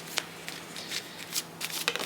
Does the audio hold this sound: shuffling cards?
yes